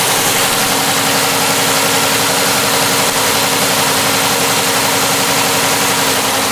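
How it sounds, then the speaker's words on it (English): A rebuilt 6.4L HEMI car engine idles steadily at close range, a constant rumbling hum with a slight rhythmic knock and no voices. "Engine sounds perfectly fine."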